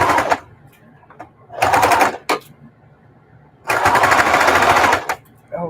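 A sewing machine stitching a mitered quilt binding, fast rattling needle bursts in three runs, short then longer, near and loud, with brief quiet gaps and faint handling noises between.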